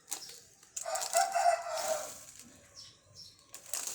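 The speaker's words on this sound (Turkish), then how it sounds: "E, horoz ötüyor da komşum." A rooster crows nearby, a loud drawn-out strained call with a rising and falling shape, preceded and followed by brief flapping or rustling, with no talk.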